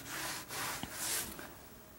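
A soft rubbing scrape sounds as chalk paint is worked off a wooden surface for a weathered look, in close, brief strokes with a couple of light taps, and no voices.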